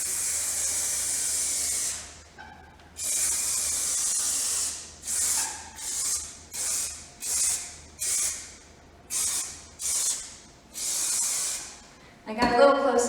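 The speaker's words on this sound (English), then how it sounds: "shake the can really well, hold 6 inches from the surface, and then spray into the grout lines" An aerosol can of sealant hisses in a long spray, then in a series of short bursts with brief pauses between them, close and loud, sprayed into tile grout lines. A rattle follows at the end.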